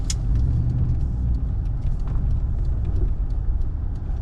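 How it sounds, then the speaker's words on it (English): A 1991 Mercedes-Benz 420SEL making a tight full-lock U-turn in the middle of a street, with a steady low engine and road rumble close by throughout. "I think we're gonna bang a U-turn, go the other way"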